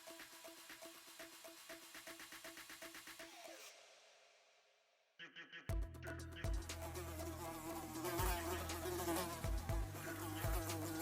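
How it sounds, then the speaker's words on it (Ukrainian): Flies buzzing close by, a thin droning whine that fades and then returns louder and denser, with several insects humming steadily together. "І нас зараз мухи видають."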